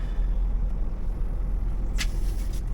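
A truck pulls away at the port of Dunkirk, a steady loud low engine rumble throughout with a brief hiss like an air brake release near the end.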